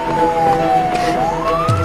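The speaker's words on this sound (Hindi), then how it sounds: "भाई एम्बुलेंस आ गई है।" An ambulance siren wails steadily throughout, its tone dipping then rising again, with a low truck-like rumble joining near the end as it pulls up.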